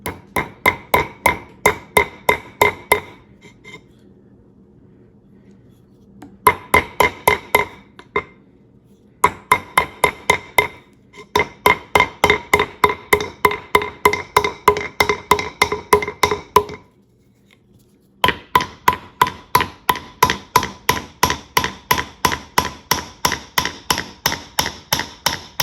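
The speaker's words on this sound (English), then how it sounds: "we're going to put the steel wedge right here in the middle." A steel wedge is hammered into the wooden handle of a forged mild steel hammer, in long runs of sharp, ringing metallic blows at a steady rhythm, separated by short pauses.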